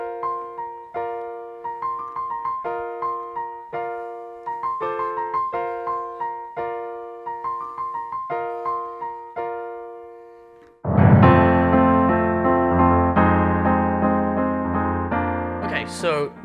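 Solo piano plays a simple melody with steady chords for about ten seconds, then a loud, sustained full chord rings out and slowly decays.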